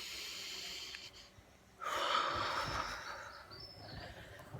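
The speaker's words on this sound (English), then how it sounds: "Deep breath." A deep breath taken during a guided letting-go meditation exercise, a soft airy inhale-exhale swelling midway and trailing off, close and alone with no talking.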